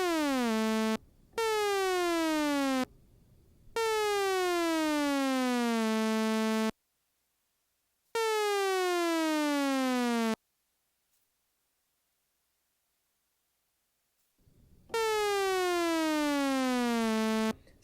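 An ASM Hydrasynth synth patch plays a run of pure descending pitch sweeps, each gliding down and settling on a held low note, their decay lengthening over the course, separated by silent gaps, loud and clean with no voices.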